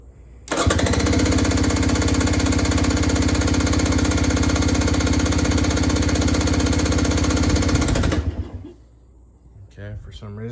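A 2019 KTM 300 XC two-stroke dirt bike fitted with a Lectron Billetron 38 carburetor fires up on choke and revs near wide-open throttle, a loud, steady, raspy roar for about eight seconds before cutting out, followed by a brief quieter stretch.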